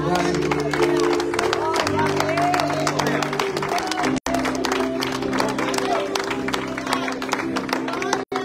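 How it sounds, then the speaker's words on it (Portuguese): A church congregation claps in praise over loud worship music with sustained tones, the clapping steady and blended into the music throughout. "Aplauda o Senhor"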